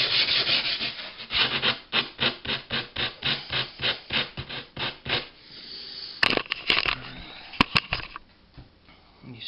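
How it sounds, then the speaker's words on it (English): A small sanding cork wrapped in sandpaper is rubbed back and forth in a steady rhythm, about a dozen close, scratchy strokes, then a few sharp taps. "just get one of them wee sanding corks and a bit of sandpaper"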